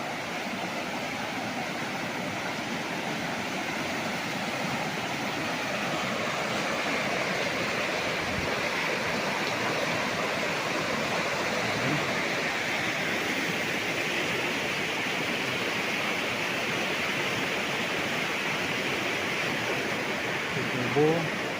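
Steady broadband rush of a strong river current flowing right in front of a resort cottage in Cavinti, Laguna, a continuous near wash of water filling the whole clip with no break.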